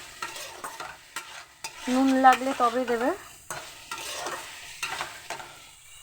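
A spatula scrapes and stirs cauliflower sizzling in a hot pan, with a short burst of speech in the middle.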